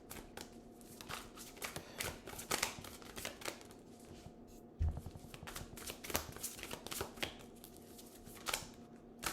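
Playing cards being shuffled and handled during a tarot-style reading, with repeated crisp riffling bursts and soft slaps throughout, fairly close and steady, with a sharper thump midway.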